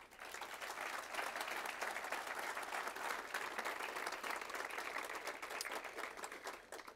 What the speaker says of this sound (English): please give a warm round of applause to Kevin Barnett.